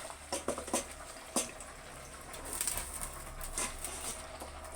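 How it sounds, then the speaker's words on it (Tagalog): Soft sizzling crackle of reused frying oil bubbling in a pan before jute leaves and okra go in, with a few sharper pops early on and a steady hiss throughout. "Mantika ng pinagprituhan. Yan guys, kumukulo na."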